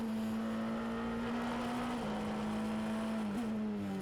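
A race car at the Estoril circuit in an Ultimate Cup Series race, its engine holding a steady, loud drone down the straight with a slight rise in pitch, a brief dip and a shift partway through, and no voices.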